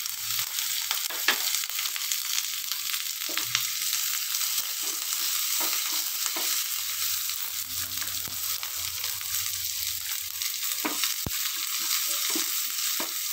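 Mustard seeds, cumin, pepper, curry leaves, green chili and ginger fry in hot oil, making a steady close sizzle with occasional sharp pops and stirring sounds and no talking.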